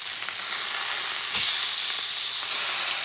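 Tuna steak searing in a hot frying pan over medium-high heat, giving a steady, close, bright sizzle and hiss throughout with one brief louder crackle midway; no talking.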